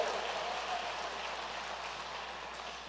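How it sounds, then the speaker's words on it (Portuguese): A church congregation gives applause to the Lord, a soft, distant, rain-like patter of many hands clapping that holds steady and fades slightly toward the end. "Pode dar salva de palmas ao Senhor"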